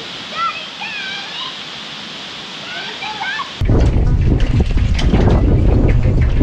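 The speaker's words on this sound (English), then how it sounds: "day one activities continue at the waterfall" A waterfall at Jenolan Caves: birds chirp over a soft background, then a loud, steady, broadband roar of falling water abruptly takes over and continues to the end.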